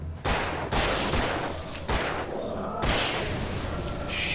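Repeated gunshots from the horror action game Alan Wake, with four or five loud, close blasts at irregular intervals that each ring out into a dense, echoing tail.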